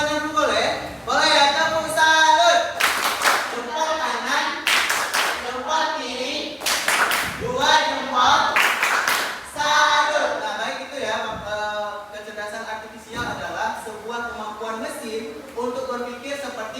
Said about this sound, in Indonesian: Tepuk salut untuk Maulana dulu boleh? Boleh ya, tepuk salut.